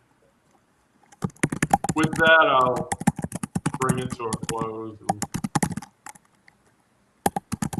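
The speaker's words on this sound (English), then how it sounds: "you sound like you're angry at your keyboard" Rapid, forceful clacking on a computer keyboard runs throughout, loud and close, continuing under a spoken remark and resuming briefly after it ends.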